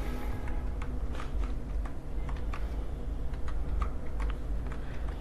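Fingers tapping out a web address on a computer keyboard, a quick irregular run of close, crisp key clicks over a low room hum, without any speech.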